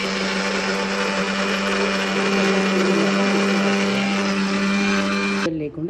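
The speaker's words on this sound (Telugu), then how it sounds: "ఇవన్నిటిని ఇప్పుడు మిక్సీ పట్టాలి." An electric mixer grinder whirs loudly and continuously as it grinds spice paste for an okra tamarind stew, a steady high-pitched motor drone that stops abruptly near the end.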